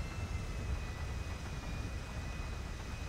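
Airplane engine in GTA 5 droning steadily, with a constant thin whine on top of the rumble, heard during a hurricane with strong winds and no talking.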